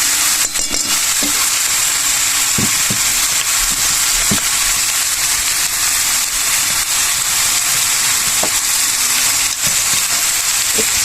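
Turmeric, dried chilli and ground cumin spices frying in hot oil, a steady loud sizzle broken by a few sharp crackles and stirring clicks throughout.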